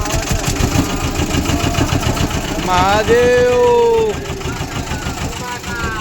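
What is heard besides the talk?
motorboat engine running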